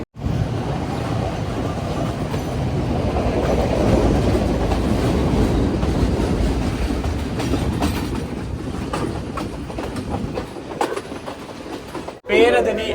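A Sri Lankan passenger train runs on the Colombo to Kandy line, giving a continuous rumbling roar of wheels on rails with faint clatter. It is heard from on board and cuts off abruptly near the end.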